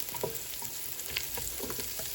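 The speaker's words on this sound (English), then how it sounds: "As you can see, it's frying up pretty nice." Mushrooms sizzle and crackle steadily in a hot pan, with a few soft stirring scrapes along the way.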